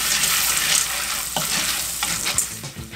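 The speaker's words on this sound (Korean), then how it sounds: "이렇게 휘휘 저으며 섞은 뒤 조금만 기다려주면" Corn kernels and butter stirred in an oiled pot, a steady close sizzle of frying under scraping stirring strokes with a few sharper clinks, no talking.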